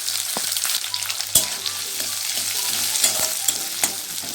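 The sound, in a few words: chopped onions frying in hot oil in a wok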